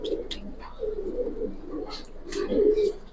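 Giribaz pigeons of the Palla line coo repeatedly near the listener, low throaty rolling calls in short bursts with a few higher chirps between.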